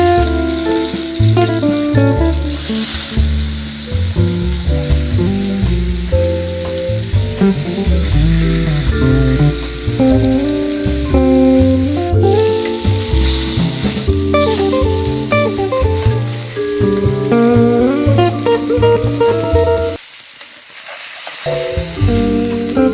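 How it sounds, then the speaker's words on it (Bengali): Koi fish frying in hot oil in a pan: a loud, continuous close-up sizzle and crackle with occasional stirring rattles. It runs unbroken apart from a brief dip near the end, with no voices. "এখন প্যানে তেল দিয়ে মাছগুলো ভেজে নিব।"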